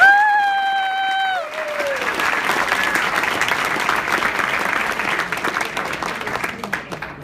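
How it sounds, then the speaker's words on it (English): Crowd applause for John after a talk, broad sustained clapping with a few cheers that follows a brief sustained tone at the start and continues steadily to the end. "Another round of applause for John."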